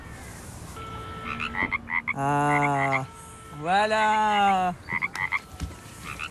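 A mobile phone plays a ringtone of frog croaks: two long, loud, droning croaks with shorter croaking calls and clicks around them, and someone speaks briefly.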